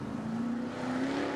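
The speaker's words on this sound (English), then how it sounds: "He's going to refire the car and go back to the tail." Sprint race car engine at the Knoxville Nationals dirt track being refired, a steady loud motor drone with a rising pitch, running continuously under distant crowd noise.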